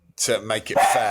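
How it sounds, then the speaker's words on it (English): A dog lets out a few sharp barks close by, overlapping with a person talking. "That's my dog."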